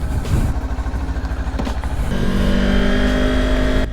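A motorcycle ridden on the road, its engine pulsing steadily then rising into a smoother, louder drone as it gathers speed, with wind noise, close and continuous.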